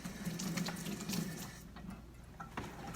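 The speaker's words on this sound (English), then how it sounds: "I'm going to wet my hand real quick" A tap runs steadily as hands are wet, a continuous close splashing rush of water that thins slightly toward the end.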